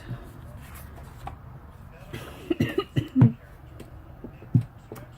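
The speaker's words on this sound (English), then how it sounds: "My asthma is acting up, so I'm sorry for all the coughing." Several short asthma coughs and throat-clearing sounds, close and abrupt, spaced irregularly over a quiet background.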